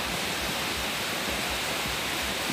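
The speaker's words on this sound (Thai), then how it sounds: "ฝนตกปล่อยปลอยทั้งวันเป็นยังสี่ละจ้า" Steady rain falling all day, heard as a dense, even hiss with no breaks, close and fairly loud, alone without voices.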